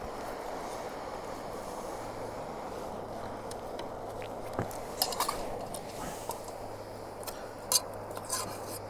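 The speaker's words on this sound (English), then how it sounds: "When I put it on a frying pan, this bread, it just needs a moment on either side" A bread warming on a ceramic-coated frying pan, with the pan and utensils giving a few sharp clinks and clatters over a steady low background hum.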